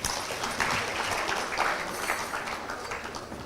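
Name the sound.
gala dinner audience applauding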